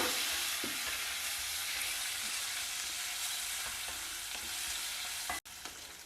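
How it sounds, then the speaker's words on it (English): Onions and curry leaves sizzle steadily in hot oil with browned dals, urad, jeera, channa and hing, a dense, even frying hiss close by with a few soft stirring ticks and no talk. "When the dals are brown, add in the onions and the curry leaves."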